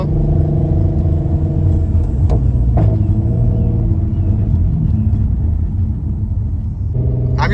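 A 7th generation Nissan Maxima idling and rumbling in first gear after the throttle is released, a steady loud low exhaust drone with a few sharp pops and crackles, one near the end.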